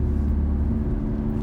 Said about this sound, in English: again, this is just a muffler delete